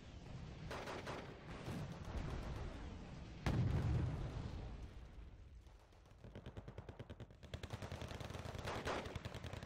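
Gunfire and artillery from the Wargame: Red Dragon video game, with fire support teams engaging infantry: dense rattling machine-gun bursts, heavy booming impacts and rapid stuttering volleys rolling on throughout, with no talking.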